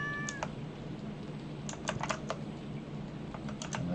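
A cat meowing in the video game Stardew Valley, heard as a short meow early on, mixed with rapid computer keyboard typing clicks throughout, all fairly quiet.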